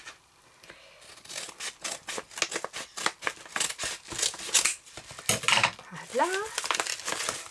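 A gift package is torn open with loud, close crinkling and rustling of wrapping that comes in quick bursts, and a voice speaks briefly near the end.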